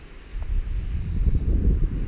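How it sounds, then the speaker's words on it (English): Steady wind blows across an open forested ridge on a southwest breeze just after a passing front, a low rumbling gust that swells and lingers close to the microphone with no voices. "the wind is coming from the southwest today"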